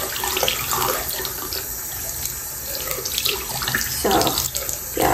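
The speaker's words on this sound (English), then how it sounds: "We're gonna wash her hair. I'm just gonna washing everywhere just so we can get everywhere." Tap water runs steadily into a sink while a toy baby doll's hair is washed, a loud close rushing stream with splashes shifting as the hair moves under it.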